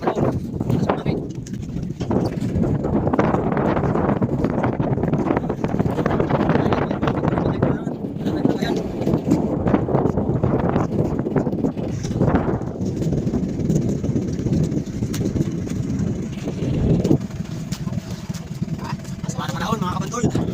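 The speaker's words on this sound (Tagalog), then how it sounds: "Malakas na yung hangin." Strong wind buffets the microphone outdoors, a loud, rough rumble with gusty swells and pauses that runs continuously, with a voice speaking over it at times.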